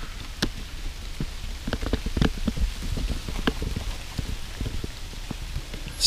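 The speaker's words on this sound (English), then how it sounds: "It's starting to rain again." Rain falls during a bike ride on the Hiawatha trail, scattered drops tapping unevenly over a low, steady outdoor rumble.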